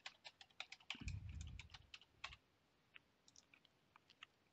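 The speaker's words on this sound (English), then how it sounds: "Click on Next, and then enter Maria's password." A password is typed on a computer keyboard as faint, quick key clicks in a burst, then sparse single taps, with a soft low rustle near the start.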